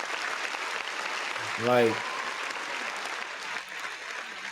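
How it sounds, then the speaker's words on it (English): Applause from a crowd at a talk, a steady broadband patter that carries through the clip while a voice briefly cuts in over it. "Let me see if I got some applause for that."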